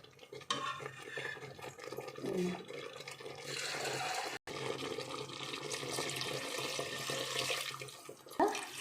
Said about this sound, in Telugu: ఇప్పుడు మనకు ఎంత మోతాదులో నీళ్ళు కావాలో అంత వేసుకోవాలి.